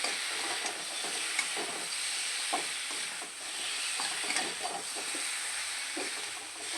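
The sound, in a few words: drumsticks stir-fried with spices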